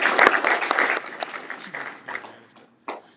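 A room of club members at a meeting applauds loudly and densely, then the clapping thins out and tapers off, with a last few scattered claps near the end.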